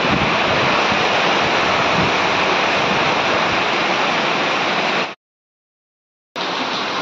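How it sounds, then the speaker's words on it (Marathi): Heavy monsoon rain with strong wind in Konkan makes a loud, steady, dense roar that drops out completely for about a second before resuming at the same strength. "बघा किती पाऊस आलाय, जोरदार वारा पाऊस सुटलाय।"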